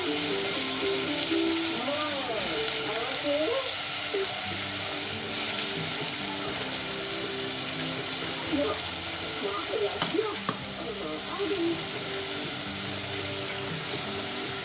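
Potatoes drop into a sizzling tempering of hot oil and spices for Gujarati vaghareli khichdi, giving a steady frying hiss with brief stirring clatter and a few faint vocal sounds.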